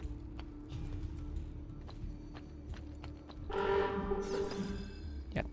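A horn honks in the Assassin's Creed game, Ezio edition, a bright sustained blare rising over a low rumbling background midway through, fairly faint with no talk.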